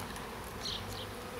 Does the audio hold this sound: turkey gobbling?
no